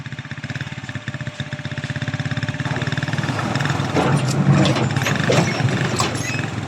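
A motorcycle engine strains in a tug-of-war against a Motorstar, with a throbbing rapid pulse that grows louder and rougher partway through and then holds at high effort.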